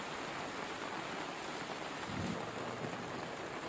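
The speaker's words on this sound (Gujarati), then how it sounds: "જ્યાં પણ આજે ધોધમાર વરસાદ પડ્યો છે" Heavy monsoon rain pours down in Saurashtra, Gujarat: a dense, unbroken roar of rainfall with a soft low rumble swelling briefly midway, and no voices.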